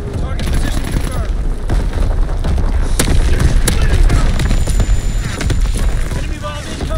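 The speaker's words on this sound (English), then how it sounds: "Firing division artillery." Division artillery fires in a combat video game: heavy booms and overlapping blasts roll over dense battle noise, with a few sharp, distinct cracks standing out near the middle.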